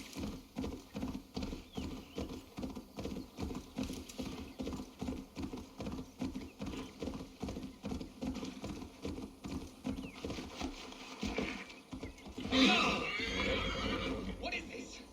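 Horse galloping in the video game Assassin's Creed Valhalla: a fast, steady rhythm of hoofbeats close by, then a sharp whinny near the end.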